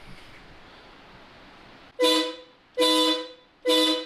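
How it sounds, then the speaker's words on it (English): Aftermarket Hella car horns freshly wired with a custom harness honk three times in quick succession, each blast loud, close and brassy, after a steady low background hum. "they are connected, so it should honk right now"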